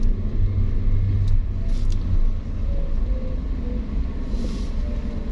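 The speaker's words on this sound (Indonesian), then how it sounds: "kita sudah memasuki ke terminal bus." Vehicles idling and moving around a bus terminal, a steady loud engine rumble close by that holds throughout, with no voices.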